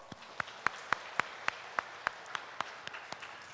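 Congregation applause during a Sunday church service at Incheon Sinkwang Church: a steady wash of clapping with a sharp, evenly spaced beat running through it at moderate volume.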